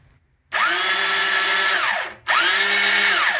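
Fully electric motorized chain gun prop spinning up at about 450 RPM: two loud, close whirring motor runs with a rising then falling whine, separated by a short pause, with no talk.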